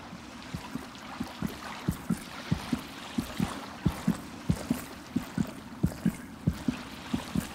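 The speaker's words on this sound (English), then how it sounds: "Hearing a heartbeat." Heartbeat in the Hollow Knight video game, a steady rhythm of soft, low double thumps repeating about twice a second, clear and even under faint ambient game sound.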